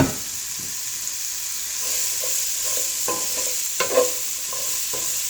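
Broccoli and mushrooms sizzle steadily in a pan for a vegetable lasagna filling, with a spoon scraping and stirring in several close, distinct strokes over the continuous frying hiss.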